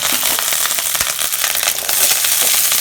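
Mustard seeds and dried red chillies crackle and sizzle in hot oil while tempering for a bitter gourd (pavakkai) poriyal stir-fry: a dense, steady, close spitting and popping that runs throughout with no voices.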